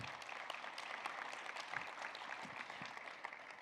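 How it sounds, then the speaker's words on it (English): A conference keynote audience gives a round of applause for an award winner, a dense even wash of clapping from many hands in a large hall, continuous and moderately loud. "Give them a round of applause."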